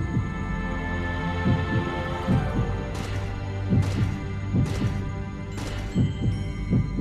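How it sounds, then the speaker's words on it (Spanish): A heavy anime-style heartbeat pulses from the hammer Mjolnir, with deep, steady, rhythmic thumps under a low droning hum, while brighter crashes break in intermittently. "¡Es el latido que emana de Mjolnir!"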